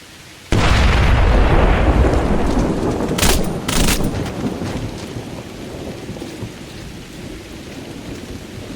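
A frag grenade explodes in the Xbox 360 game Splinter Cell Blacklist, one sudden loud blast that rumbles and decays into a long roaring, rain-like debris tail, with a couple of sharp cracks partway through.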